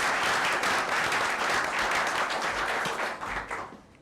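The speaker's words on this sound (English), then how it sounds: "Well, let's give a round of applause." Dense, steady applause from the audience at a Mt. Airy town council meeting honoring a soft pretzel shop's third-place win, sustained then tapering off near the end.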